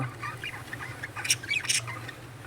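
Small caged sparrows, a male and a female, give a few faint, high chirps and squeaks over a steady low hum, with two slightly louder bursts of calls near the end.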